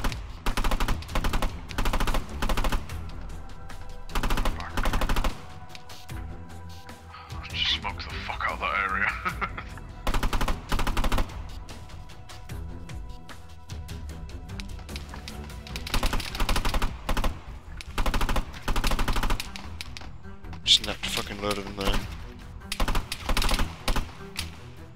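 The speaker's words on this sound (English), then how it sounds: "Suppressing fire." Suppressing gunfire in the video game Arma 3: repeated bursts of rapid automatic fire, loud and sharp, with short pauses between volleys and voices talking over the shooting.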